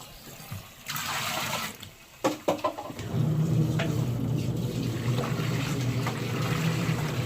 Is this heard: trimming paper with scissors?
no